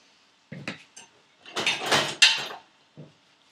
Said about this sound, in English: So I'm going to close this lid on a low flame.